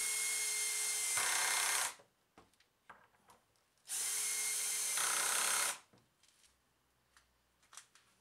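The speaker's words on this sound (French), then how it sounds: "Je perce l'encadrement où je veux le visser." A power drill bores into a wooden frame made from scrap pallet wood, with two loud whirring bursts of about two seconds each, separated by brief clicks and handling knocks.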